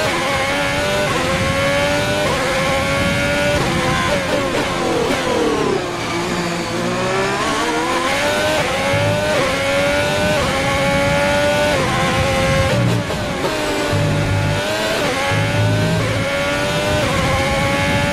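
A Formula 1 car engine in the racing game F1 2020 revs loudly and continuously, its pitch climbing and dropping with repeated gear shifts and no one speaking.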